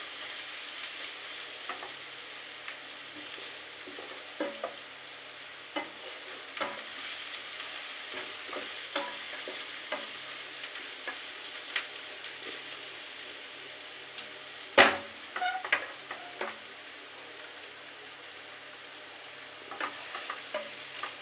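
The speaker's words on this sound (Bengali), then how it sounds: "এগুলো ভাজি এগুলো সব মশলাটা বেড়ে মানে লাল হয়ে এসেছে" Onions and spices frying in a pan for a taro-leaf and shrimp dish, with a soft continuous sizzle broken by frequent scraping stir strokes and one louder clatter midway.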